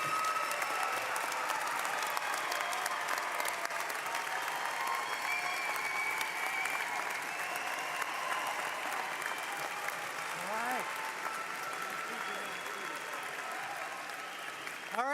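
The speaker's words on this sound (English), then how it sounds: "please give the class of 2022 one more round of applause." A large crowd at a medical school graduation ceremony applauds steadily and loudly throughout, a dense wash of clapping with occasional scattered cheers.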